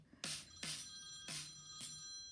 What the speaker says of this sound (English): that was my alarm to wake up to make sure I didn't sleep in.